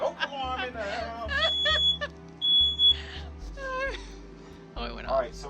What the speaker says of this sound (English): Oh, we got the smoke alarm in the house.